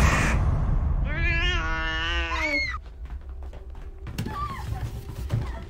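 A ghost child in a Japanese horror film lets out a long, wavering cat-like meow, a close, drawn-out wail that bends in pitch over a low rumbling background, followed by softer thumps and a brief faint cry.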